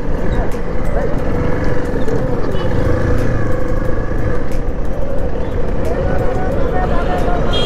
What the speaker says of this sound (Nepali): लाइक जाम त टन्नै छ.